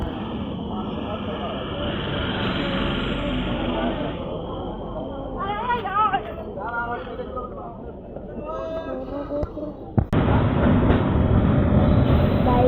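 A passenger train runs on its rails with a steady loud rumble and clatter of wheels, squeals rising over the noise in the middle, and people talking over it throughout.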